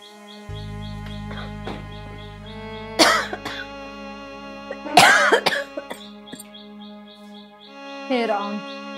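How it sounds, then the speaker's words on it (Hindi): An elderly woman coughs in several harsh, separate bursts, a couple of them loud and close, while birds chirp steadily in the background of a quiet domestic scene. "पता नहीं माँ जी के पीछे खांसी क्यों पड़ गई है, पीछा ही नहीं छोड़ के दे रही।"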